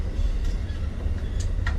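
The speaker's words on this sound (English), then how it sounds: "that's a train outside" A low, steady rumble with faint clicks on top from a train rolling by on tracks behind a backyard, continuous throughout.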